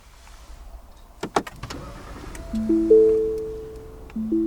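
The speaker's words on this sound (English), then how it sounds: "Power folding mirrors." Power folding side mirrors on a 2017 Lincoln MKZ, a couple of clicks followed by a steady electric motor whir that shifts pitch as the mirrors fold, close and alone.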